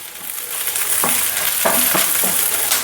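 Curry leaves and onions frying in a pan for an egg curry, a steady close sizzle with a few brief stirring scrapes partway through, no voices.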